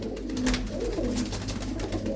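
Blue-footed pigeons cooing, soft low rolling coos repeating over a steady background hum, fairly close and moderate in level, with no voices.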